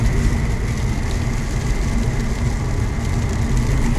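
Rain in harvest season near Portage la Prairie, heard as a loud, steady broadband wash with a low rumble underneath, continuous and unbroken, with no one speaking.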